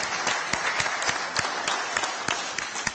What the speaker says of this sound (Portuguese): todos vocês merecem uma salva de palmas!